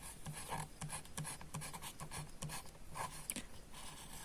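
Chalk or marker scratching across a classroom board in steady, repeated strokes, fairly close and moderately loud, with no talking.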